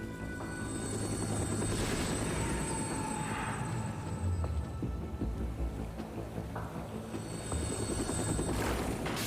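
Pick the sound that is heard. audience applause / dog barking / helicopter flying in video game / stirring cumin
helicopter flying in video game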